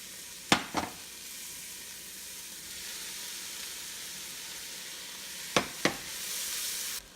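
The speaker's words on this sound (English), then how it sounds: "Saute that for a couple of minutes." Ham and peppers sautéing in a pan as a faint, steady sizzle, with two pairs of sharp utensil clicks against the pan, one pair near the start and one near the end.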